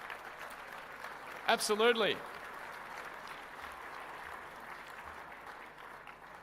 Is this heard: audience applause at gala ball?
yes